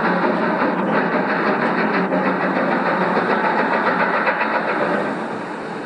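A diesel locomotive, the pilot engine running to top and tail a Bournemouth train, passes on the Somerset and Dorset railway, a steady loud engine roar and rumble that holds for several seconds before easing slightly at the end.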